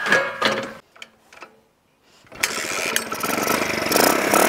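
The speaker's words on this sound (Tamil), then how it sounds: "ஃபஸ்ட்டு நம்ம இன்ஜினை வந்து ஸ்டார்ட் பண்ணிடலாம்" An old motorcycle engine used to power an earth auger cranks briefly, falls quiet, then catches and roars into a loud, steady idle with a rough, rattling tone.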